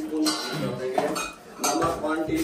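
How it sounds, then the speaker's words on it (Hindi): Plastic kitchen chopper being opened and handled in a student kitchen, with clinks of dishes and utensils and brief rattling, heard close amid background kitchen noise and faint talk. "ये चॉपर अभी खोलना पड़ेगा।"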